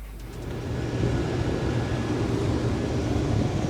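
A grain cart tractor rolls into a harvest field, a steady low diesel rumble that swells within the first second and then holds loud and close, no voices.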